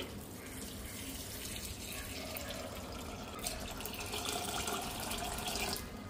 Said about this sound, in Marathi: याच्यामध्ये आता पाणी टाकून घेऊया।